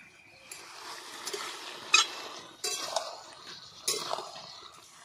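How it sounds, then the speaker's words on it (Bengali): Bottle gourd is stirred in a pan with ginger, cumin and chili pastes, making scraping and clinking strokes in a loose, uneven rhythm, close by and moderately loud. "একসঙ্গে নেড়ে নেব।"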